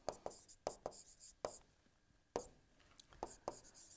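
Chalk or marker tapping and scratching on a board during an engineering lecture, a series of sharp strokes in irregular bursts with short pauses, fairly close and moderately loud.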